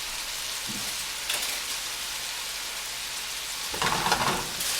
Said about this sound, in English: we've got our bacon cooking down